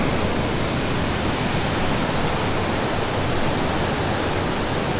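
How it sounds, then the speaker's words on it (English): Waterfall in Hilo, Hawaii, its water running on toward the ocean: a steady, dense, broadband roar of falling and rushing water, loud and continuous throughout with no voices. "the water is continuing for another maybe a quarter of a mile until it reaches the ocean"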